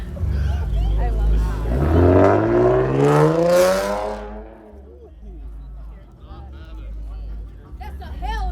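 Dodge Hellcat engine revving, a deep rising roar that climbs in pitch and then falls away, followed by a lower idle rumble with voices talking nearby.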